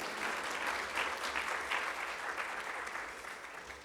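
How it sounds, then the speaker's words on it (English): Sustained applause from a conference plenary audience, a dense, steady patter of many hands that fades slightly toward the end. "I feel like y'all should clap on that one or something."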